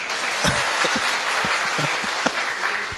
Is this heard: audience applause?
yes